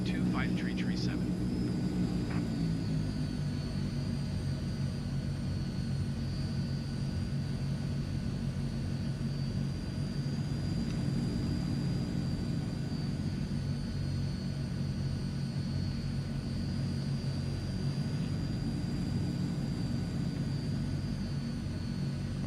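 Transall C160 cargo plane in Microsoft Flight Simulator, its turboprop engines producing a steady, loud droning hum with a high whine on a runway before takeoff, while a voice talks over it.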